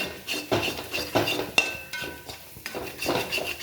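A spoon stirs masala curry in a pot with repeated scraping clinks and knocks against the metal, irregular and close, with no voices.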